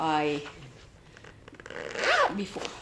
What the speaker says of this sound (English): sorry about the zipping